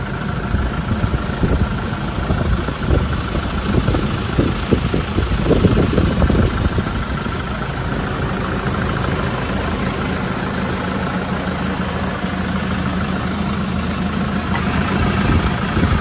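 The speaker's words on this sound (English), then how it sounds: "You can hear the air compressor coming in and out there." A 2007 Land Rover Defender 90 TDCi with a Puma diesel and 145,000 miles idles with a steady low rumble, while its air compressor cuts in and out, adding a busier clattering layer early on before the engine settles into an even drone.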